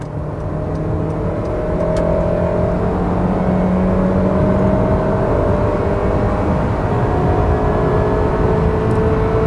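Automatic car held in second gear with the engine revving steadily and loudly, a continuous close drone whose pitch climbs gradually without a gear change, no talk over it.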